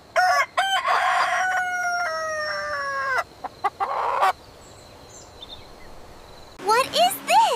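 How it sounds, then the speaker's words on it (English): A rooster crows loudly and close in one long drawn-out call, followed by short bird calls and, after a quiet gap, a burst of further fowl calls. "It's a rooster."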